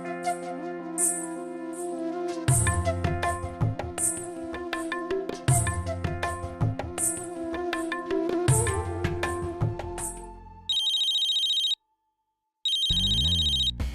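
A mobile phone ringtone plays loudly and steadily, a repeating melodic electronic tune with bright chiming notes, then changes to a sustained tone that stops briefly and resumes.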